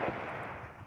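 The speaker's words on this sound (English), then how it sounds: "We see some mortar fire coming in." Incoming mortar fire in the real-time strategy game WARNO, a sustained rumbling barrage of distant impacts blending into a continuous roar, with no voices.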